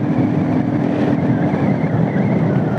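A Honda CGL125 motorcycle modified to a 200cc engine runs close and loud, a steady gritty engine drone with no pauses.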